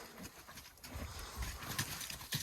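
Horse moving about a farmyard, with soft, irregular shuffling and hoof thuds in continuous rustly background noise, fairly faint and close.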